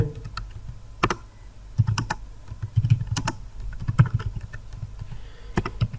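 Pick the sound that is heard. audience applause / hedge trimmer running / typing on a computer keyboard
typing on a computer keyboard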